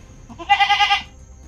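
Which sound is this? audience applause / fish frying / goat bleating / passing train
goat bleating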